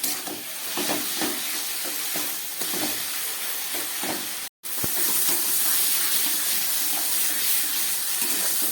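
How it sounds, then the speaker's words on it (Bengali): Taro leaves stirred and fried in a pan over a high gas flame: a steady close sizzle with repeated scraping stirs, broken by one brief silent gap partway through. "এবার এটাকে খুব ভালো করে গ্যাসটা একটু জোরে দিয়ে এটাকে নেড়ে নেড়ে এখন ভাজা করতে হবে।"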